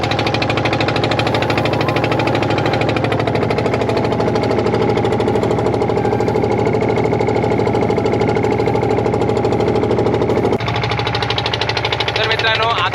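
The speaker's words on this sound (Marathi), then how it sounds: "काय सुद्धा आउटबोर्ड मशीन असा बाहेरचा बघा." A fishing boat's outboard engine runs loud and steady at sea near the coast, a continuous throbbing drone with a brief shift in tone near the end.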